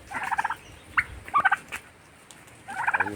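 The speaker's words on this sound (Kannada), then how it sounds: "ತುಂಬ ಟರ್ಕಿ ಕೋಳಿ ಸಾಕಿದ್ದಾರೆ" A few short bursts of turkey gobbling from a farm flock, close by, coming in separate clusters with quiet gaps between them.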